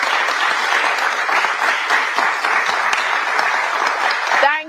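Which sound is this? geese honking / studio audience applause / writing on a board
studio audience applause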